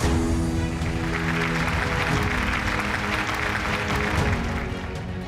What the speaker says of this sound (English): We'll keep that applause coming, ladies and gentlemen